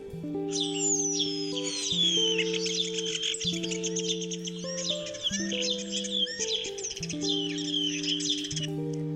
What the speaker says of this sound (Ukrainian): Шпак співає різноголосо, він може наслідувати і копіювати не тільки голоси інших пташок